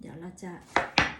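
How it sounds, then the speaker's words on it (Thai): A knife chopping ingredients for a spicy instant noodle salad with squid tentacles and sausage, two sharp cuts on a board right after a woman's brief speech. "หั่นให้ดูนะคะ"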